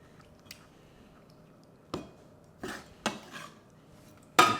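Knife cutting squid into chunks on a board, a handful of separate crisp chops and taps spaced irregularly over a quiet background, close, ending with a louder clack.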